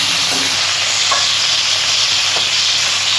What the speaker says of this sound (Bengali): আমি একটু হালকাই ফ্রাই করে নিচ্ছি